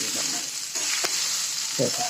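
Potatoes are stirred and fried in a pan with turmeric, salt, coriander powder and chilli, giving a steady close sizzle broken by scraping stirs.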